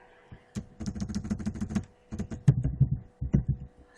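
Close, crisp clatter of fingers typing on a computer keyboard in quick bursts separated by short pauses, with no voices.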